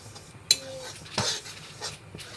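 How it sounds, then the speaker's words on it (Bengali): A utensil clinks and scrapes against a pan while rice-flour pitha fries, giving a few sharp metallic knocks and a scraping stir over soft background noise. "এখন আস্তে আস্তে নাড়তে হবে।"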